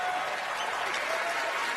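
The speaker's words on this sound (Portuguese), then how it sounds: "Palmas pro cinema nacional!" Steady applause from a group of people, dense even clapping that fills the short moment without any speech over it.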